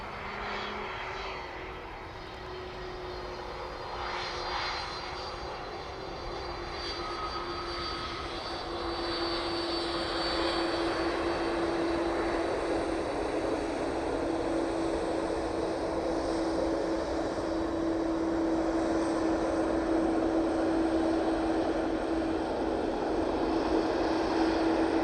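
At East Midlands Airport, a Boeing 767 arriving from Kennedy touches down on the runway, its engine roar building gradually from moderate to loud and holding steady as it rolls, with a sustained tonal whine and no talk.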